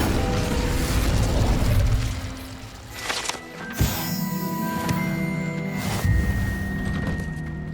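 In Hogwarts Legacy, casting the Incendio fire spell sets off mechanical clunks and a booming fiery burst, with sharp pops and lingering rumbling whooshes over a continuous game soundscape.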